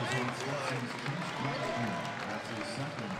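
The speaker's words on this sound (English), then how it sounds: "the crowd jumps to their feet here inside Millett Hall" Basketball crowd in Millett Hall rising to its feet as a Red Hawks player is fouled late in the second half against Stetson: a steady, loud roar of cheering and clapping that fills the whole arena, with a commentator's voice running over it.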